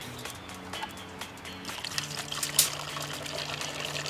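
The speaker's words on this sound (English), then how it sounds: "simply fill clear plastic or glass containers with your water" Water is poured into clear plastic or glass containers, a close, steady splashing pour with gurgling trickles that swell and bubble as the containers fill.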